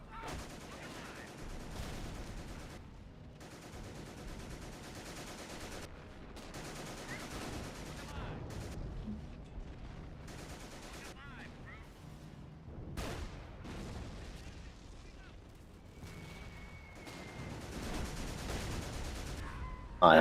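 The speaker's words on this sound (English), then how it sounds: "Next barrage is firing" Howitzer artillery barrage in a video game, a sustained run of booming shots and rattling gunfire layered over twenty seconds, dense and continuous with bursts swelling near the end.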